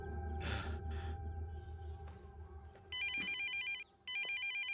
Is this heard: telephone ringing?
yes